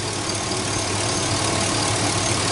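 A GMC Yukon engine with a misfire runs steadily close by, giving a loud, continuous rumbling drone with no talk.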